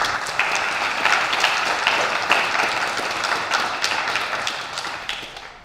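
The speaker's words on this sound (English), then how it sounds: "So let's just give a round of applause to recognize them." An audience at a TEDdy Talks event claps steadily for several seconds, a dense patter of many hands that slowly tapers off toward the end.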